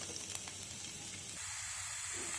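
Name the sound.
chopped onions sizzling in hot oil in a pan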